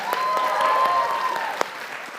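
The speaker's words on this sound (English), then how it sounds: "Let's give him a round of applause." Audience at an annual lecture at a Catholic school breaking into applause, a dense wash of clapping from a seated crowd, fairly close and steady, with a brief voice heard over it.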